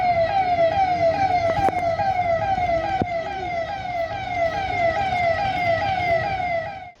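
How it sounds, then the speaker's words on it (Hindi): An emergency siren sounds at a district collectorate in Chhindwara, wailing loudly and continuously in a rising and falling sweep throughout, with a couple of brief sharp knocks partway through and no voices. "कलेक्ट्रेट परिसर में सायरन बजाकर संकेत दिया गया"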